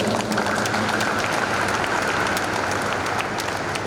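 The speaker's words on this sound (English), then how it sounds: "They deserve a resounding applause." A church congregation applauding at an interdenominational service in Abuja marking Nigeria's anniversary, dense sustained clapping filling the hall with a steady roar and a faint held tone underneath.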